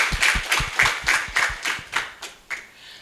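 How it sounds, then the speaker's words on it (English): A small group claps in unison in a room, about a dozen rhythmic, evenly spaced claps that tail off and grow sparser toward the end. "I would want everybody in the room to clap for themselves"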